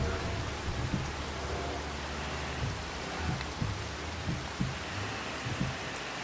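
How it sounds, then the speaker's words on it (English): Steady rain from a hail storm in the Farming Simulator 25 farming game, a faint continuous hiss of falling rain with scattered soft low thumps, no voices. "Did the rain stop?"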